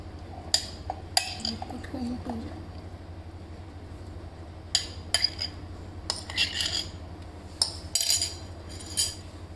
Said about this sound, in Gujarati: હવે આપણે એક મિક્સર જાર લઈશું અને એની અંદર આપણે જે સમારેલા ચીકુ છે એ નાખી દઈશું